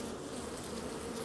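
Honey bees in a queenless colony drone steadily around queen cages inside a hive, a faint continuous buzz with no voices.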